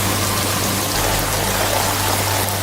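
Heavy rain pours steadily during a bare-knuckle fight scene in an action film, a dense, continuous rushing wash with a low steady hum beneath, loud and unbroken with no voices.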